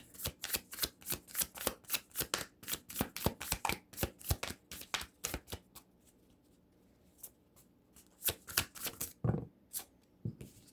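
Tarot cards shuffled by hand in a rapid series of crisp riffling snaps, with a short pause before a few more sharp card flicks and taps, close and clear with no talking.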